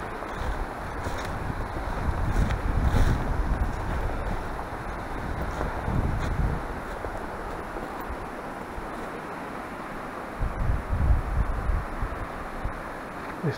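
An evening breeze gusts across the microphone on a forest hike among dry spruce and small cutovers, a steady broadband rumble that swells and eases, with no voices.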